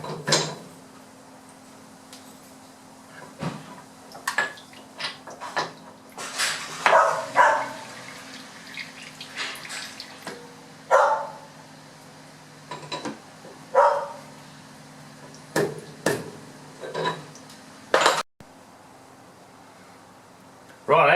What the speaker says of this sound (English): I had the young bloke taking the dogs for a walk and they were all barking